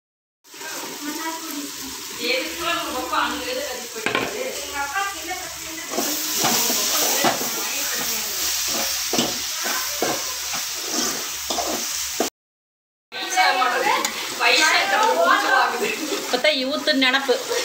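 Mushrooms frying in a pan with chilli powder and biryani masala hiss and sizzle steadily while a utensil scrapes and clinks as they are stirred, loud and close, with a brief break near the end.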